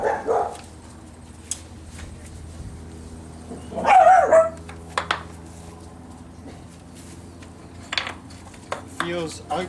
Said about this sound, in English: My dog's going berserk.